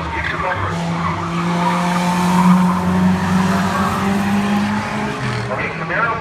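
A Camaro race car corners hard at Varney Speedway during a King of the Hill elimination race, tires skidding and squealing under loud engine roar, with announcer talk over the racing.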